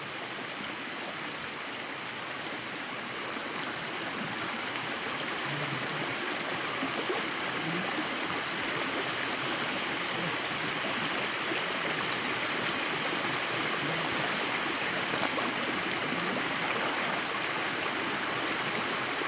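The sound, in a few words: river water flowing as buffaloes leave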